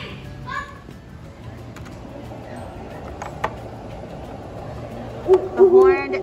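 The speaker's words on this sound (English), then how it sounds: "A horned owl." A great horned owl hoots near the end, low and resonant, over a murmur of children's voices and background chatter in a children's museum.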